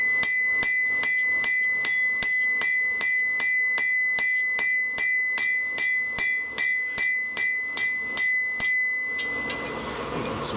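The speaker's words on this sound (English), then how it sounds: "Straightening metal, you always hammer on the high spots," Hot steel being hammered to straighten a forged scythe hook, a long run of evenly spaced, ringing metallic strikes close by, about two per second, ending in a short rasping noise.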